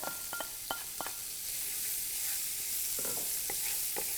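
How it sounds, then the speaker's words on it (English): Minced onion hits hot bacon grease in a pan, giving a steady sizzle with several sharp stirring scrapes and clinks, close by with no talk. "We're going to go ahead and add some minced onion to that."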